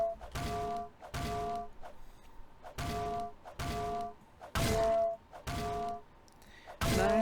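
Coin pusher game quarters dropping in repeated bursts, each a clattering metallic clink with ringing tone, about seven separate drops spaced roughly a second apart, loud and close with no talk.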